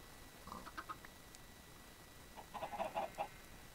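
Minecraft chickens cluck in two short clusters, faint and a little distant, separated by a quiet pause.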